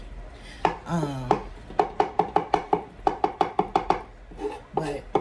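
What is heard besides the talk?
knife mincing garlic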